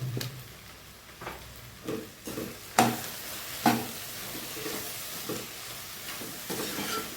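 Spoon stirring salt and chili powder into an ivy gourd and egg curry in a pan, a series of scraping strokes over a steady low sizzle, with a few louder clacks near the middle.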